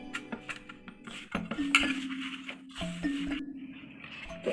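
Ripe mango pulp being kneaded into dough in a metal bowl for mango luchi, with repeated clinks and scrapes of utensils against the bowl and soft squishing, close and fairly quiet, no talking.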